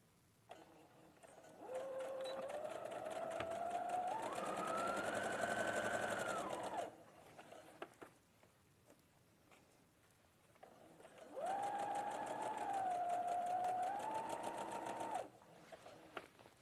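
Sewing machine stitching in a sewing studio, running in two steady bursts of several seconds each, with a brief pitch rise in the motor whirr as speed changes, close and clear, separated by a quiet pause.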